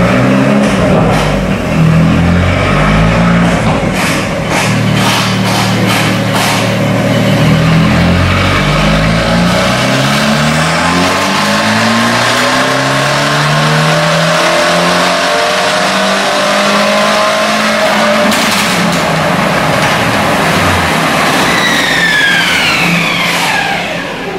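An Abarth car engine revs hard and close during a test drive after a remap, pitch sweeping up and down through repeated accelerations and gear changes, loud and continuous with no talking.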